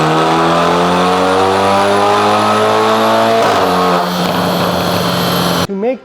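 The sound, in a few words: BMW 330i four-cylinder engine and exhaust revving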